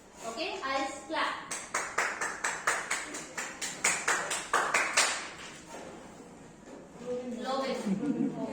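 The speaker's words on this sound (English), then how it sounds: "I'll clap." A teacher claps hands in a steady, even rhythm, about a dozen sharp near claps during a passing-the-parcel game in a classroom, stopping abruptly, followed by children and the teacher talking.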